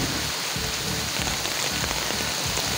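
Steady rain pattering on a farm field during a thunderstorm, a dense continuous hiss of drops close by with no clear thunder crack, heard alone without talk.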